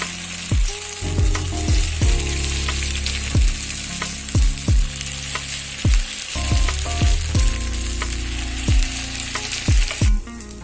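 Kuzhi paniyaram batter made from ration rice fries in a pan with a steady, close sizzle, while a plucked melody with decaying notes plays alongside throughout.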